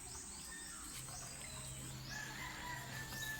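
A rooster crows faintly in a rural outdoor setting, one drawn-out call set against steady insect-like background hiss, fairly distant and alone without talk.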